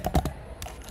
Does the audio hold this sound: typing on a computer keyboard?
yes